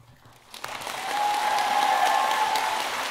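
Audience applause at a school convocation ceremony, starting soft and swelling within a second into steady, moderately loud clapping that carries on to the end.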